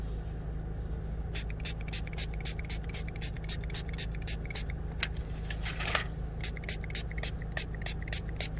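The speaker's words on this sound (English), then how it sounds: "We're gonna spray the adhesive side first" Spray adhesive being applied to a screen protector for a Toyota Tacoma instrument cluster in a garage: rapid, evenly spaced hissing spritzes over a steady low hum.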